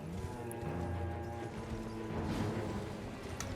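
Hooves of the Tree Sentinel's armored mount in Elden Ring clatter in a quick clip-clop rhythm beneath a low droning game score, with a few sharper metallic hits scattered through.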